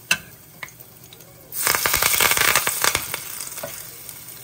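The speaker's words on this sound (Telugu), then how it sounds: "సో కరేపాకు దాంట్లోనే ఫ్రై అయిపోయింది బాగా." Curry leaves dropped into hot oil for a Nellore red-chili dosa seasoning burst into a loud, crackling sizzle after a quiet start, then settle into steady spitting and popping, heard close up.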